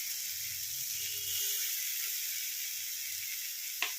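Eggplant goes into a hot pan while making begun bharta and fries with a steady, close, moderately loud sizzling hiss, with a single sharp click near the end and no talking.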